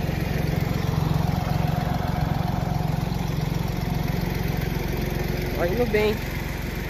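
A small tractor engine drones steadily and loudly while dragging a harrow across a field, its low rhythmic chug continuous throughout, with a brief spoken comment near the end.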